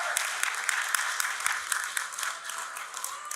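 Oxford University debate hall audience reacting loudly to a speaker: a continuous crowd roar with scattered sharp claps and shouts, steady and close throughout.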